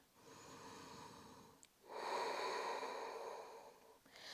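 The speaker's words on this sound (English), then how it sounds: "Breathing in, breathing out." Slow, steady breaths during a vinyasa yoga flow: a long soft inhale, a brief pause, then a fuller, louder exhale, close and alone.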